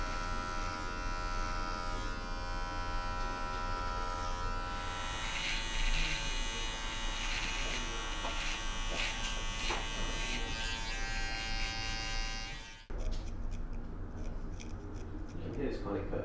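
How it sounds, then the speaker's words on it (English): Electric trimmer cutting through beard hair during a barber's grooming of long hair and beard, a close, steady buzzing with small crisp snips, running continuously before cutting off sharply near the end. "You can hear this kind of cutting, it's taking a few hairs here and there."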